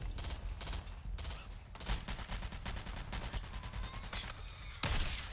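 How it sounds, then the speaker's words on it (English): Ranch rifle gunfire in a shooter video game, rapid repeated cracking shots in quick bursts, loud and close, with short pauses between volleys and a final sharp burst at the end, no talking. "He's shooting all over the place"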